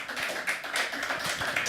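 An audience on a live talk show applauds in a steady, dense wash of clapping that holds evenly throughout.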